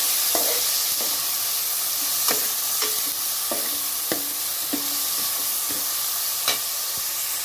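Tomatoes sautéing with onion, garlic and green chilies in a pan for South Indian sambar, a steady loud sizzle with repeated clinks and scrapes of a spoon stirring through it.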